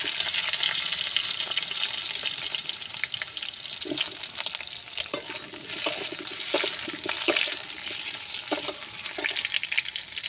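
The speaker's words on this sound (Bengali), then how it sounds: "তেলের ভিতরে আমি আলু দিয়ে দিলাম, মাংসের আলুগুলো আমি ভেজে নিলাম।" Potatoes meant for a meat dish fry in oil in a wok over a fire, giving a loud, steady sizzle with crackling bursts throughout and no talking.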